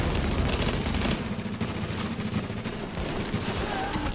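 Heavy squad gunfire from several weapons in the shooter game The Division, with dense overlapping bursts of automatic fire blazing loud and nonstop throughout, up close and without any talk.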